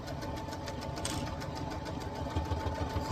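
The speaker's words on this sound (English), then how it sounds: "Forward and backward stitch. And we're gonna sew all the way down." Sewing machine running a forward and backward stitch on vintage sheet fabric, a continuous close rhythmic whir with steady needle pulsing throughout and no talking.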